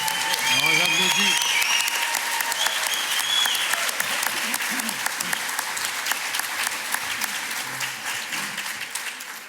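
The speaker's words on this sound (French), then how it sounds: "On les applaudit." Elected municipal officials are applauded by the audience at a regional colloquium in Nicolet-Yamaska, steady crowd clapping throughout while voices talk over the start.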